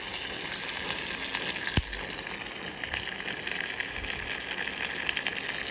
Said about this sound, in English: Fry it till the garlic turns nice and brown